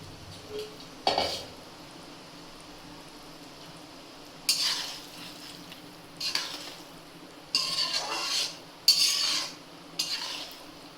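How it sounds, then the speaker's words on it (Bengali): Okra tipped into a pan of yogurt-based dahi bhindi masala seasoned with kasuri methi, stirred with a spatula in bursts of scraping and sizzling, with quiet pauses between them and no talk. "এরপরে ঢ্যাঁড়সগুলো দিতে হবে, ঢ্যাঁড়সগুলো ঢেলে দেবেন।"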